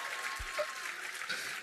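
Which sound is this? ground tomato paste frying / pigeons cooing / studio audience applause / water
studio audience applause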